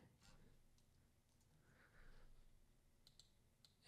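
Quiet computer keyboard keystrokes: a few faint, scattered clicks with soft pauses, ending in a louder tap.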